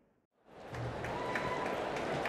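Applause from a large tennis crowd fills Centre Court, swelling in after a brief hush and then holding as steady, dense clapping.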